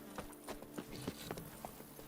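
Hooves of the horse Roach in The Witcher 3 video game, a quick irregular clip-clop of several hoofbeats at walking pace, close and fairly soft, with no voices.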